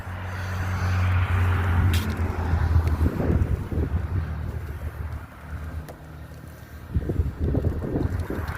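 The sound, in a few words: riding in open gondola car of scenic railroad train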